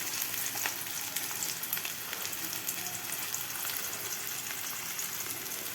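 Onion and curry leaves frying in hot oil for a mutton gravy give a steady, fairly quiet sizzle and crackle with no voices.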